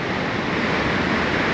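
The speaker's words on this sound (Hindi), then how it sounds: "पानी का फ़्लो भी बहुत ज़बरदस्त है" Strong water flow rushing through a wide canal, the Lalyani canal near Mustafabad in Kasur district, heard in the late afternoon as a loud, steady, broad roar with no voices over it.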